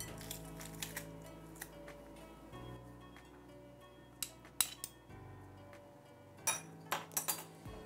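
Eggplant fatteh ingredients, including salt, cumin and crushed garlic, being mixed in a bowl, with soft scraping and a few sharp clinks of a utensil against the bowl at irregular moments, fairly quiet throughout.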